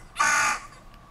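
Coding video game crow: one harsh, raspy caw lasting about half a second, loud and near, then fading into a faint background hiss.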